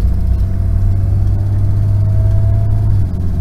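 A 1991 Ford Explorer with an A4LD automatic transmission idles in first gear in drive, a loud, steady low engine hum and rumble from close by, easing slightly at the end.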